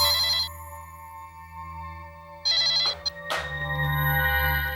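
A telephone rings in loud, close bursts of shrill electronic trilling, separated by quieter pauses under a steady background hum, with no talk.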